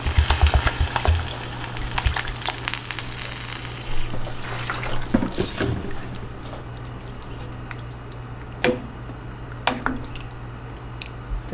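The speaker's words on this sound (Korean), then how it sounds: "여기다가 이제 물을 물을 충분히 넣어주세요" Water poured into a pot of pork kimchi stew, a gushing splash at first that gives way to quieter drips and squishing liquid sounds, nearby and alone.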